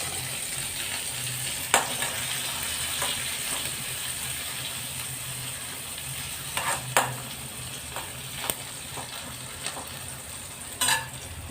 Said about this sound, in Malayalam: ഇപ്പം ഞാനിത്തിരി കടുക് ഇട്ടിട്ടുണ്ട്. കടുക്, മുളക്, വറ്റൽ മുളകുണ്ട്, പച്ചമുളകുണ്ട്, കുറച്ച് ഉള്ളിയും ചേർത്തിട്ടുണ്ട്.